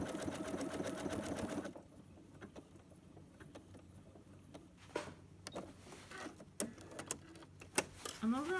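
A sewing machine quilts a bulky biscuit quilt, its steady motor run loud at first, then quieter stitching with scattered clicks and handling noises as fabric is shifted, with some talk in between.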